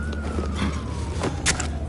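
A police siren in Batman: The Telltale Series wails steadily through the scene, close and loud, with no one speaking over it.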